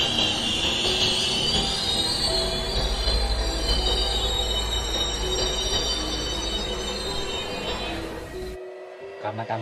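A train pulls through a railway station at Kalimedi, its wheels squealing loudly against the rails over a steady rumble, then cutting off abruptly near the end.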